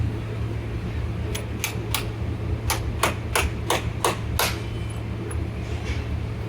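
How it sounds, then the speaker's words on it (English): A hammer drives a roll pin into a Tel-O-Pole round button with about ten sharp metallic taps in an uneven run, heard close over a steady fan-like hum. "And then you can drive in your roll pin."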